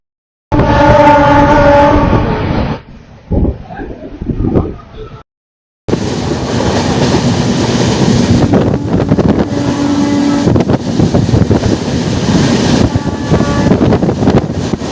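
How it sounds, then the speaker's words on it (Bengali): A Tamralipta Express horn blares loudly at the start as it departs Tamluk station, then after a brief gap comes the steady rumble and clatter of the moving train, with some voices. "আমাদের ট্রেন ছেড়ে দিল তমলুক"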